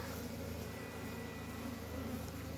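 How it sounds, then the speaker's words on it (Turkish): Bees buzz densely and continuously at a beehive under attack by a hornet, a close, steady drone with no talk. "Kılıç arısı gördüğünüz gibi saldırıyor."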